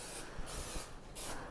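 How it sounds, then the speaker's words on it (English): Cooking spray hisses into a cake pan in about three short, close bursts, each a bright airy spritz with brief pauses between. "We're gonna be using cooking spray."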